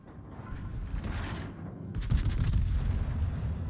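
Heavy gunfire from a Colombo tier 10 Italian battleship's turrets in World of Warships on the Okinawa map: a steady low rumble, then a loud, booming broadband salvo around the midpoint that rolls on without pause.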